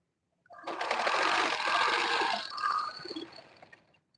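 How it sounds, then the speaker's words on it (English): A sewing machine stitches a flounce onto a sleeve in one continuous run of fast mechanical whirring, lasting about three seconds close to the listener before it slows and stops. Nobody talks. "So I'll continue sewing and sewing right to the end."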